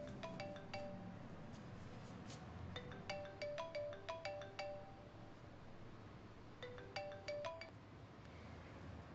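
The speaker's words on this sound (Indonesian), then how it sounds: "Ah, maaf. Saya akan menerima telepon." Phone ringtone chiming in repeated bursts of bright, clear tonal notes, moderately loud, sounding alone with a low background hum and no talk.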